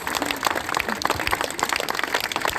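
An audience at a club inauguration in Pont-à-Mousson applauds after a speech, steady mid-level clapping from a room of people with faint voices underneath.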